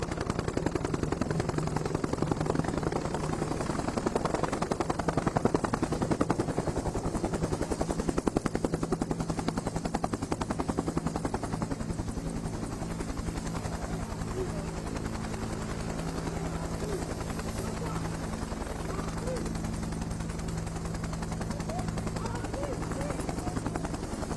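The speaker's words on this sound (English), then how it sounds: "This helicopter can deploy up to 13 fully equipped troops into operational area with unparalleled precision and efficiency." Military helicopter flying a troop insertion at an outdoor army day celebration display in Kaduna, Nigeria; a steady, loud rotor and engine roar runs throughout, with sharp bursts like gunfire mixed in.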